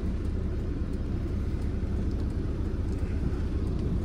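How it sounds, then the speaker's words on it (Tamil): Road vehicle approaching from the right side in traffic, a steady broad rumble and engine drone heard from inside a car, even and unbroken throughout with no talking. "ரைட் சைடில் வண்டி வந்துட்டுருக்கு"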